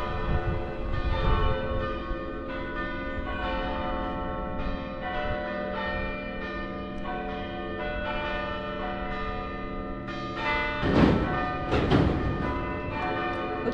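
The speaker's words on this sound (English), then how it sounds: "looks like I timed this walk just right to hear the church bells" Church bells ring steadily in a layered, sustained peal heard from a moderate distance along a walking trek in Nepal, with a louder scraping rustle near the end.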